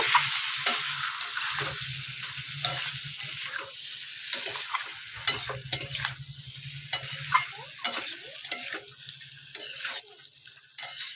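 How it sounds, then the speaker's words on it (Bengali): Boiled potatoes stir-fried with spices in hot oil in a pan, giving a steady sizzle broken by repeated scraping stirs close up, with no talking. "সিদ্ধ করা আলুগুলো খুব ভালোভাবে কষিয়ে নেব।"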